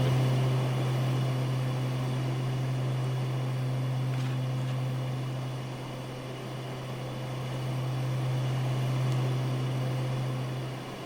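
Black Square Starship aircraft engine droning steadily in a flight simulator cockpit, a continuous low hum with a broad turbine-like hiss that swells and eases slightly, heard alone with no talking.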